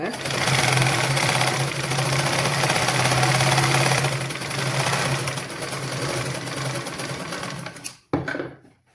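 A sewing machine stitches in a steady, close mechanical whir with a faint rhythmic knock, running continuously for about eight seconds before cutting off, then a short clunk.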